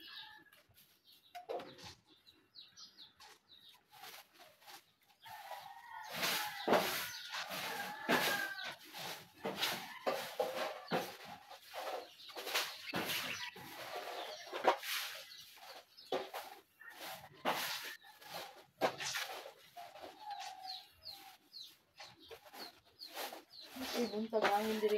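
Outdoor chickens and other birds call in scattered clucks and short cries, moderately close, with people talking at intervals throughout.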